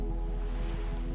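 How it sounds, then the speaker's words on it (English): Steady rain patters against window glass at night, a soft, continuous hiss with no breaks and no voices. "The night stretched long and quiet, the rain a steady rhythm against the glass."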